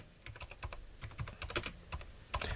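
Rapid typing on a computer keyboard, with a steady stream of close, light key clicks and a few sharper taps, heard on its own without talk.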